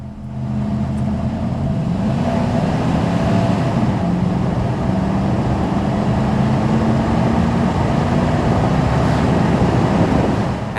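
A 1995 Chevrolet Suburban with factory four-wheel drive cruises along, its engine a low, steady drone that rises and falls gently under heavy road and wind rush, continuous and fairly loud throughout.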